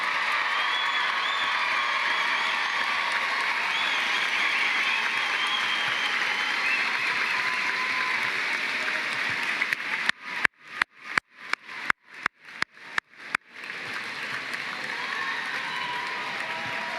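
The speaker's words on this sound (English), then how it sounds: "a loud, warm round of applause for the class of 2027" A large audience at a veterinary medicine white coat ceremony applauds the class of 2027, a steady wash of dense clapping that runs for about ten seconds before breaking into a few sharp, separate claps and then going on.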